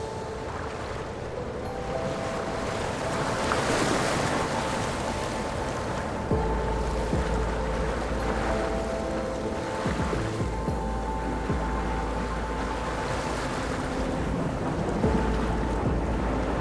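A sailboat pushes through growing chop off Cape Cook on Vancouver Island, with a constant roar of water and wind rushing past and surging slowly, and no voices.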